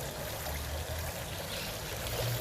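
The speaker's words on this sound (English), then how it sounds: "Tiny water fountain." A tiny fountain in Cádiz's Parque Genovés trickles and splashes in a steady, continuous flow, close by, with a low background hum.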